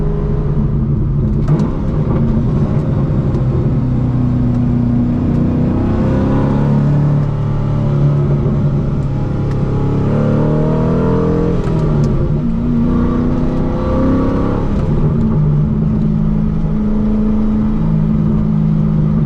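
An LS V8-swapped RWB Porsche 911 drives along, its engine note rising and falling through steady revving, loud and continuous for the whole stretch with no talking over it.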